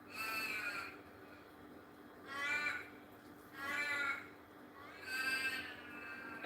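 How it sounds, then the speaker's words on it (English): Crows caw from a tree across the street in a city in spring, several harsh calls coming in repeated bursts a little way off over steady outdoor background noise. "We have a tree across the street and it houses all the crows of the area."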